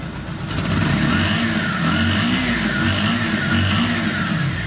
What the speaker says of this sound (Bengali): বাইকটি দেখতেছেন যে ইঞ্জিন সাউন্ড কিন্তু একদমই স্মুথ